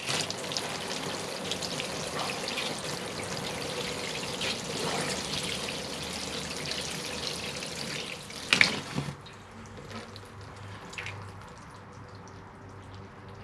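Water poured from a hose or can onto the soil of a freshly repotted privet bonsai, a steady close hiss and splash that cuts off near the end, leaving soft trickling and drips.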